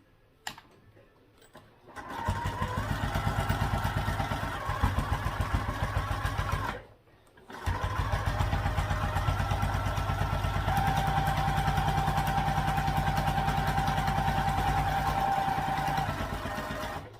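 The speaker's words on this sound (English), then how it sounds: "then top stitch all the way down, so we'll want a regular foot for that" A sewing machine runs a long top stitch down a crossbody bag front panel, with a fast, even mechanical chatter in two bursts separated by a brief pause, close and without talking.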